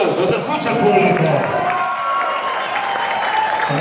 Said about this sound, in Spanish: ¿Nos escuchan esos aplausos?